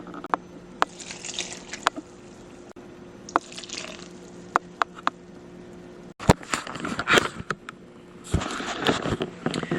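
Water poured for salt dough, quiet trickling and splashing that grows busier in the second half, with scattered sharp clicks and taps between pours.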